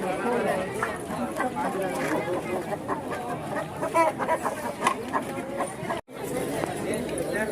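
Roosters and hens cluck and crow close by at a crowded poultry market in Proletarsk, with steady chatter and other birds underneath and a brief dropout near the end.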